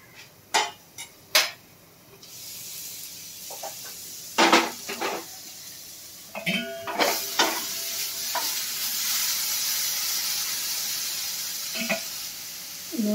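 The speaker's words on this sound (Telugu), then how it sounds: "ఎండుమిరకాయలు డ్రైగా వేయించుకోవాలి" Dry red chillies roast without oil in a pan over a low flame, with scattered scraping knocks of a spoon stirring against the metal, followed by a steady, soft sizzling hiss.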